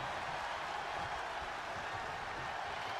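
A wrestling arena crowd cheering in the WWE 2K25 video game, a steady dense roar of voices and applause holding at an even level throughout.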